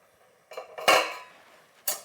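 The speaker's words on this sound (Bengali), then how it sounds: "দেখুন, চাপাটা তুলে নিচ্ছি" A metal pot lid is lifted off a pot of boiling ginger and garlic: a soft scrape, then a bright ringing clank that fades, and a second sharp metallic clink near the end.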